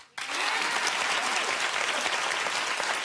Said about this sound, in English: Clap if you think that she should talk to the daughter.